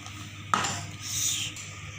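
A spoon stirs thickening custard milk in a pot, scraping and clinking once sharply against the metal before a softer continued scrape, close and fairly quiet with no talk.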